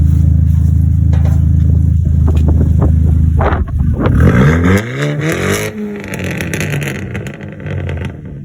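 A tuned Stage 3 big-turbo Mk5 GTI engine runs rough, loud and close, with a steady low drone that breaks into uneven revving surges and wavering pitch midway.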